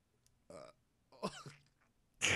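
A loud, short burp rings out near the end, following a brief hiccup-like sound and a wet, coughing throat noise, all close and separated by quiet gaps.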